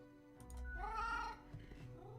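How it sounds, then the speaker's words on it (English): A cat in the video game Death and Taxes lets out a single soft, drawn-out meow over a quiet steady background tone. "Oh, that's a happy meow."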